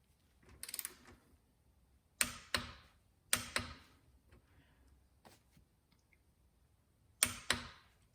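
Sharp mechanical clicks from a torque wrench tightening Puig crash bar bolts on a Honda CB500F, coming as isolated single and paired ticks spread over several seconds in a quiet workshop.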